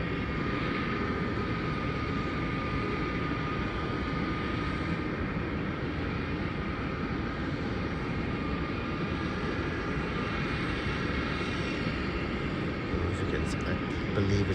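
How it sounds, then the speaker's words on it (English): A Gulfstream V private jet at an airport runway, its engines producing a steady, loud broadband roar throughout with a faint whine layered on top, heard from some distance with no break. "there's a Gulfstream flight getting ready to depart"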